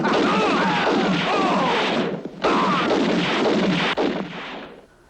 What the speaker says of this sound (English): Sounds like shooting.